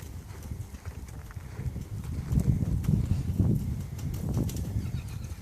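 A mare being worked from the ground in an arena during a veterans' equine training session walks with soft, steady hoof clops against a constant murmur of background noise.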